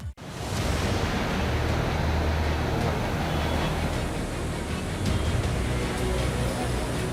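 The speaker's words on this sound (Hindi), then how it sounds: "अलकनंदा नदी रुद्रप्रयाग में उफान मार कर बह रही है।" The Alaknanda river in monsoon flood at Rudraprayag, a loud, continuous roar of rushing water that starts abruptly and holds steady and close throughout.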